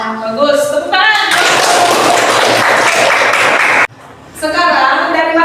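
A classroom breaks into a burst of hand-clapping applause lasting a few seconds, then stops abruptly, with a teacher speaking just before and after.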